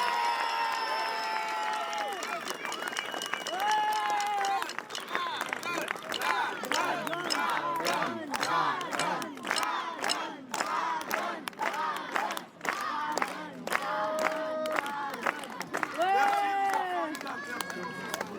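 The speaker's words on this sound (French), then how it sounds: "Un tonnerre d'applaudissements." At a witch festival in Bouxwiller, a crowd applauds and cheers a fire performer, with continuous clapping, shouts and whoops from many people across the whole stretch, and voices calling out within the noise.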